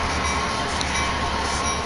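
A train runs on rails with a steady, loud rumble and a thin high wheel whine, close and unbroken throughout, no talk.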